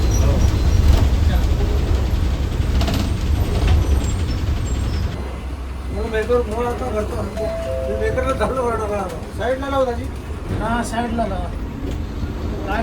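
A bus on the Dharmabad–Shegaon route sits stopped at the old Risod bus stand, its engine rumbling low for a few seconds before people talk over the quieter idle.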